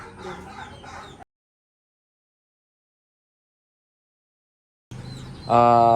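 Farm chickens cluck briefly and close by, then a long silence follows before louder, sustained crowing-like calls at the end.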